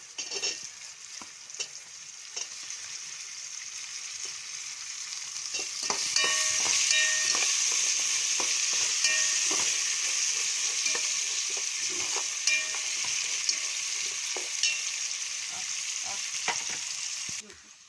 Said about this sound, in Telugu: ఆనియన్స్ ఫ్రై అయ్యాక క్యారెట్ కూడా వేసుకోవాలి.